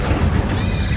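Casting the Incendio fire spell in Hogwarts Legacy produces a short burst of whooshing, crackling magical fire, loud and close, lasting about a second.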